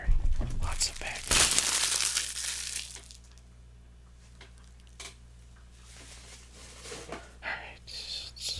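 Plastic and cardboard packaging of a Yu-Gi-Oh Legendary Decks 2 box crinkles and crushes up close in loud bursts at the start, then gives way to quieter intermittent rustles and soft handling sounds.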